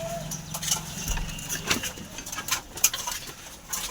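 Pigeons in a small breeding loft give soft, irregular coos and brief rustles and wing flutters, close and moderately loud, with no talk.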